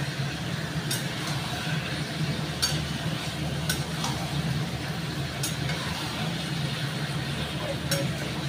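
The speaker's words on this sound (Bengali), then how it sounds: "চিকেনটাকে ভালো করে একটু নেড়ে দিই" Chicken frying in a pan gives a steady, dense sizzle throughout, with occasional sharp scrapes and clinks from a stirring utensil, close and continuous, and some faint talk beneath.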